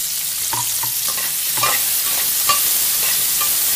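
Chopped green chillies frying in hot oil for chilli potato, an even, loud hissing sizzle with soft rhythmic taps of stirring in the pan throughout, heard without talk.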